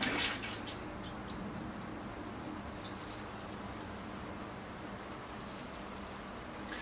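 Water pouring steadily onto a bonsai in its pot, a continuous splashing patter like light rain that holds at an even level throughout, with no voices.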